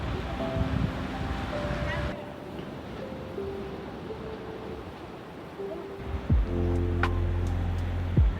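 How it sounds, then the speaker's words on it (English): Ocean surf at the seaside in Busan, Korea: a steady, broad wash of waves mixed with wind buffeting the microphone, with sustained tonal sounds layered over it and the surf swelling louder toward the end. "The ocean really feels alive today."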